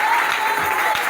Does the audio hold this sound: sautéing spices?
no